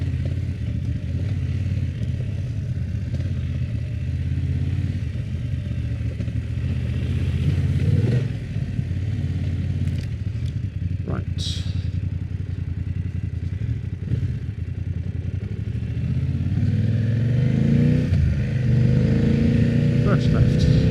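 BMW F900 motorcycle ridden off-road in Surrey, its engine droning steadily up close with intermittent clattering rattles from the bike over rough ground, a voice talking over it throughout.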